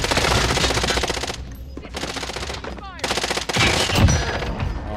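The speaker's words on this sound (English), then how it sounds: "I shot him through the wall." Rapid automatic gunfire in the video game Warzone, shots fired through a wall, coming in loud dense bursts with brief gaps between them and a final sharp burst near the end.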